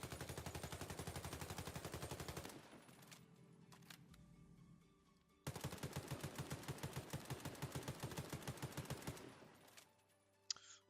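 The 3210 assault rifle in the Warface video game fires two long fully automatic bursts, a rapid, even, loud rattle of shots separated by a quieter pause with mechanical clicks and handling noise.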